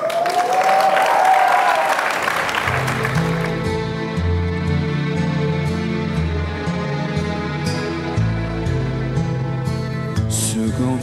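Applause from an audience fills the first few seconds on a concert stage, then fades as the instrumental opening of a ballad begins and continues alone.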